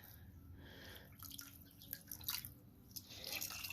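Water drips and trickles from a Norwex microfiber cloth being wrung out one-handed, a faint, close patter of small splashes that grows busier toward the end.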